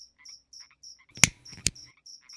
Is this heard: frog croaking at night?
yes